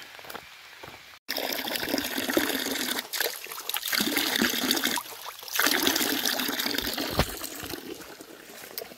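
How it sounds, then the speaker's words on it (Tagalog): Mountain water flowing near Puerto Princesa, a loud, continuous rushing and gushing stream that swells and dips, with a brief break early on. "Tubig daw yung galing bundok."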